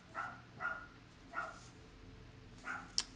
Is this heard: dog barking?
yes